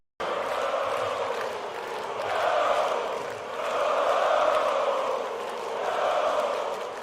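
A large crowd chants in rising and falling waves at a live metal concert, a broad roar swelling roughly every two seconds, heard at a distance and alone.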